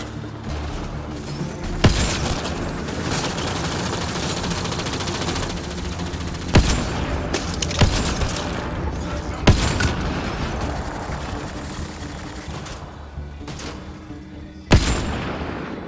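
Rapid, sustained gunfire from a sci-fi shooter game fills the stretch, with dense bursts of shots and several sharper loud impacts or booms punctuating the steady barrage.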